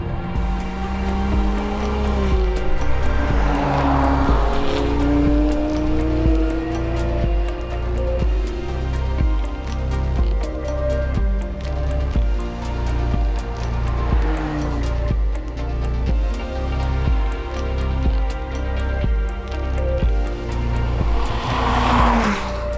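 A McLaren 570GT sports car drives on the road with a loud, steady engine note that rises and falls through gear changes, with faint tyre noise, no voices.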